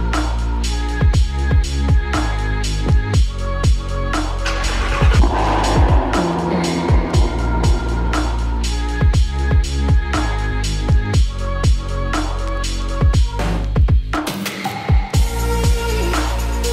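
A Ford Shelby GT350R V8 engine cold-starts after six months in storage, a loud close rumble with repeated revs, sharp pops and burbles throughout, and no talking.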